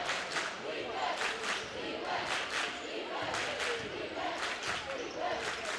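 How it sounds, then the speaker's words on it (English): Crowd noise fills a high school basketball fieldhouse during a tight rivalry game, a steady loud roar with rhythmic cheering surges, while a commentator talks over it. "Crowd getting loud once again as they can sense how tight this game is."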